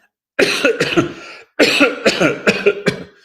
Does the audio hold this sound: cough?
yes